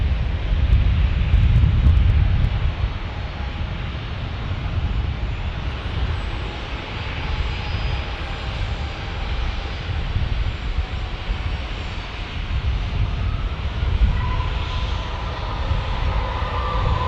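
An Embraer 175 jet departing San Diego airport makes a loud, broad engine roar that swells at the start and then holds as a steady rumble with a faint high whine.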